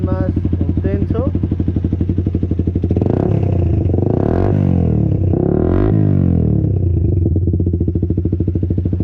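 A Suzuki motorcycle engine runs loud and close, with a rapid idle pulse broken by several sharp revs in the middle, and a voice speaks briefly at the start.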